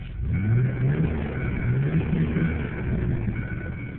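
A car engine fitted with a new exhaust revs up and holds, a deep, rising and falling mid-pitched drone close by, with no talk over it.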